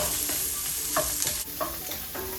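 Vegetables and egg are stirred into sizzling chicken fried rice in a pan. Brief spatula scrapes land over a constant close frying hiss, with no voices.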